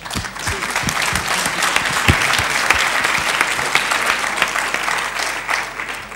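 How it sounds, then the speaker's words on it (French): An audience applauds steadily after a talk, dense continuous clapping from a crowd, fairly loud and even throughout with no speech over it. "Je peux applaudir, monsieur."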